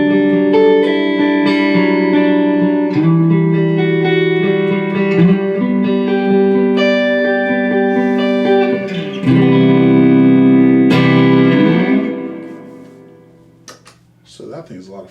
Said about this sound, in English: this one's just like a little bit like wetter reverb